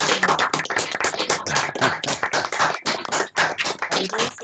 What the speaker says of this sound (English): And I think the usual way of thanking Mike, shall we just do a little bit of applause?